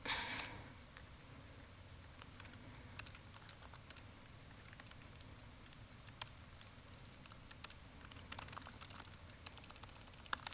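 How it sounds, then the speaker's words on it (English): Soft, steady typing on a computer keyboard at a tech talk demonstration: rapid, irregular key taps over a faint room hum, quiet and close, with no talking. "It's amazing how much more difficult typing is while people are watching you."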